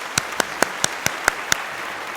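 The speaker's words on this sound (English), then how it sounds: "A round of applause for these students." Steady diffuse applause from a high school valedictory service audience, with a series of sharp, evenly spaced louder claps or knocks standing out above the wash.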